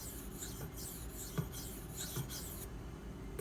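A Maxamet steel knife drawn across a Nano Hones ceramic sharpening stone makes soft, rhythmic rasping strokes repeating about every second, faint and close with no talk.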